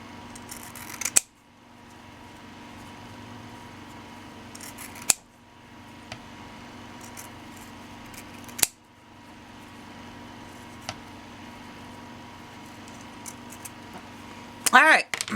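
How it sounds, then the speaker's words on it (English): Big scissors snip through fabric while circles are cut out, four sharp separate cuts spaced a few seconds apart over a quiet background, with a brief rustle at the end. "Be careful you don't cut your fingers with these big scissors."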